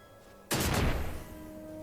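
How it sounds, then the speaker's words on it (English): A sudden single blast from an explosion trap in Final Fantasy XII, sharp onset then a roaring decay over half a second, settling into low background game music. "An explosion trap."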